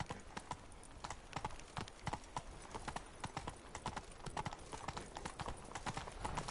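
Hooves of Roach, a horse in the video game The Witcher 3, clip-clopping in a quick, steady rhythm of crisp, close hoofbeats that runs throughout, faint and alone.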